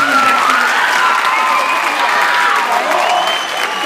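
An audience, children among them, claps and cheers for a young volunteer at a percussion show, with excited shouts and high voices rising over the applause.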